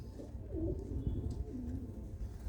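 A Khatti pigeon pair cooing in a loft in Ludhiana, with low, throaty coos rolling steadily at close range over a constant murmur of other birds.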